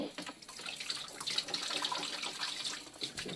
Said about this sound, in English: go ahead and just give it a final rinse, get some of the soap off